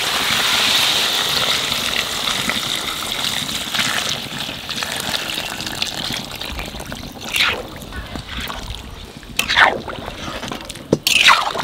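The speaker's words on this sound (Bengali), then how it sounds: "এইবার গরম জল দিয়ে দেবো।" Hot water poured into a pot of turkey meat curry cooking in a Bengali home kitchen, a steady pouring and trickling wash with louder splashes near the end, while people talk.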